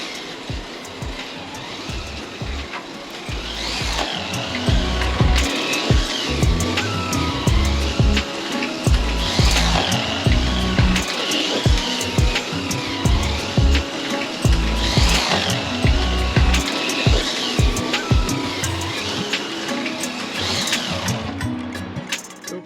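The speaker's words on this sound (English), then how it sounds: "there are a couple of plastic bosses underneath the car there you can see where the magnet's at, and they actually drag on the track" A Can-Am slot car, its plastic bosses beside the magnet dragging on the track, whirs loudly and continuously past in repeated laps, a buzzing motor whine with a faint scraping rasp rising and falling as it circles.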